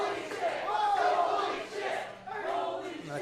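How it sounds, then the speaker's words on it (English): A wrestling show crowd roars and cheers in a sustained, swelling wave of voices that dips briefly before surging again, loud and close. "The crowd has come alive here"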